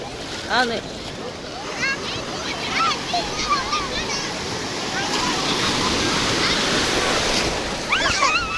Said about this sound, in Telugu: అవి వస్తున్నాయి, అలలు వస్తున్నాయి చూడు